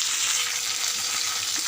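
Garlic, curry leaves and asafoetida sizzle in hot tempering oil for tomato-pepper rasam, giving a steady, dense hiss that stays close and even throughout with no voices.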